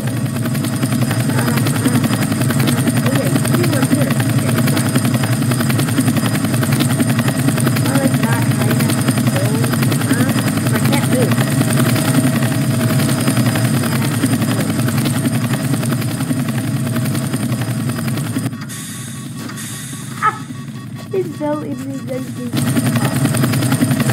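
A helicopter in the Roblox game Redwood Prison produces a steady, loud, droning rotor hum that holds without a break, then dips briefly and comes back near the end.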